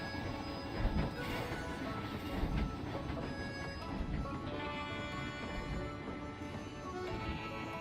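A train rolls through a Planet Coaster theme park, giving a dense, continuous rumble with rhythmic clattering over roughly eight seconds. It stays fairly quiet and at a distance within the busy park ambience.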